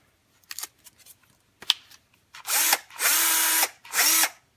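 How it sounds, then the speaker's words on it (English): Bosch PS41 1/4-inch cordless impact driver spinning up in several short bursts: a few quick trigger blips, then three longer whining runs at steady high speed, close and loud with no talking. "And let's check out this drill while we're in here."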